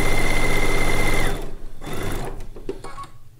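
A sewing machine runs loud and steady while stitching quilt fabric for a Kaffe Fassett Lacey Log Cabin quilt top, then cuts off after about a second, leaving quieter handling noises.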